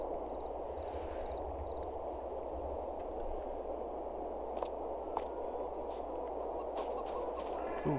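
Chickens in the Farming Simulator video game cluck softly over a steady hiss of background noise, with a few faint clicks scattered throughout.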